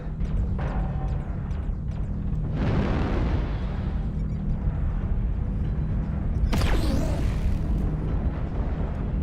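Missile airstrike explosions in an online shooter video game: a loud blast around the third second and another sharp burst later, over a constant low engine-like drone with no talk.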